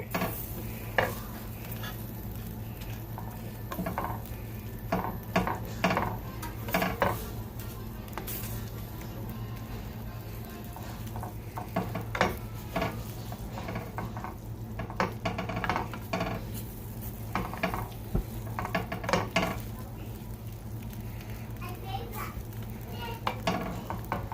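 Feta pasta with prosciutto and spinach stirred in a pan, a steady run of scraping and clacking utensil strokes over a constant low sizzle and kitchen hum, with a voice talking faintly now and then.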